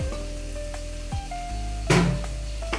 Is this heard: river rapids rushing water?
no